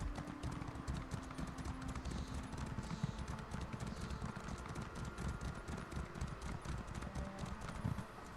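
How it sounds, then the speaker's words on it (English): Horse hooves clip-clop in a steady quick rhythm in The Elder Scrolls Online, a continuous close trotting patter with faint ambient game sound behind it. "this is the weird random horse"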